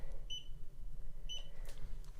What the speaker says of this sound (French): ce petit bip il est un peu agaçant